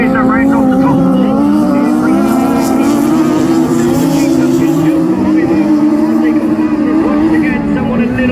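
Race cars in a ladies and juniors national class race on a track, their engines droning loudly and continuously with shifting pitch as they battle for position.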